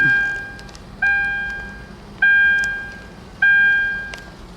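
A soft electronic ignition chime in a Lexus LFA rings four times at steady intervals, each tone fading before the next, with a faint hum underneath.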